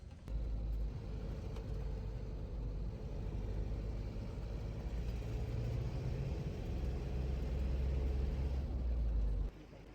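A car drives along a road at night toward Yamunotri in Uttarakhand, its steady low engine rumble and road noise continuous throughout.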